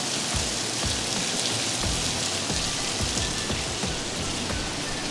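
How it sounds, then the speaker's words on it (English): Steady rain falls on a roof during a road district outing, a dense, even hiss of drops that holds evenly throughout, with no voices. "But yeah, it's raining."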